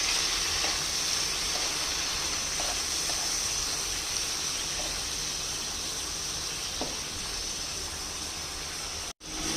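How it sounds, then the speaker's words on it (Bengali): Prawns fry lightly in oil with salt, a steady, even sizzle, punctuated by a few faint taps, and no talking over it. "এটা হালকা করে ভাজা করে নেব"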